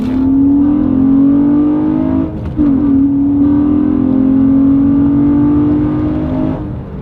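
A 2013-17 Honda Accord V6, otherwise stock, fitted with a Takeda intake, revving loudly and close: a steady high rev with a short drop and return, then holding before easing off.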